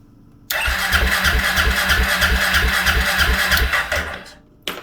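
A Suzuki KingQuad ATV engine cranks steadily on its starter for about four seconds without firing, the fuel pump not priming; a close, loud, rhythmic churning that stops abruptly, followed by a brief click.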